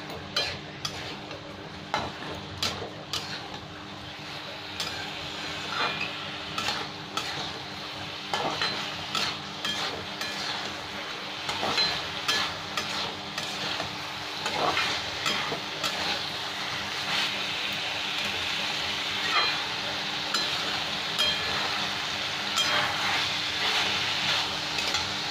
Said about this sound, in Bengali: আর 2 মিনিট আরও ডালটা ভেজে নেবো মশলার সাথে, পটল আর ডাল।